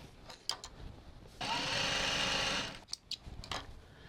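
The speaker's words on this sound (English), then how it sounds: "I'm just going to sew all along these lines that I've marked on" A sewing machine runs in one steady burst of about a second and a half, stitching along marked lines on a rolltop rucksack, with quieter handling clicks and rustles before and after.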